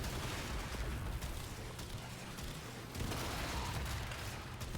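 Corvus gunfire in the Warframe video game, a continuous stream of dense, fairly quiet shots blended into a busy battle wash with no talking.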